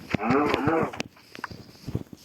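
A cow from the video game Minecraft gives a drawn-out moo, loud and close, followed by quieter scattered game sounds and clicks.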